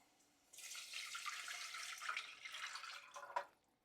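Water pours steadily into a pan of cooked garlic and ginger for about three seconds, a soft hissing splash that ends with a small drip.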